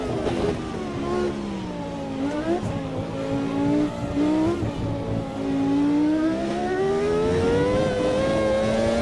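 Formula One style race car engines in the Automobilista 2 racing sim, a loud high-revving engine note climbing and dropping through gear changes, with other cars buzzing nearby and no talk over it.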